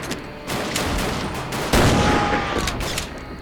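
Gunfire from Commandos Strike Force, a video game against Nazi soldiers, crackles in repeated loud bursts and volleys, with a heavier blast about halfway through.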